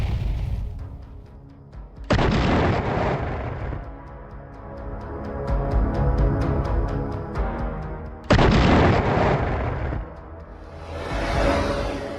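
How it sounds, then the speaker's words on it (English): Heavy booming blasts on a battlefield as an armored vehicle convoy is hit, with rumbling roars and whooshing bursts, several loud surges of explosive noise rolling one after another over a continuous low rumble. "flames and explosions engulf the battlefield"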